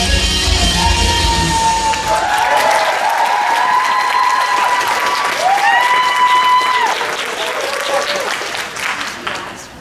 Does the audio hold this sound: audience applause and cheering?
yes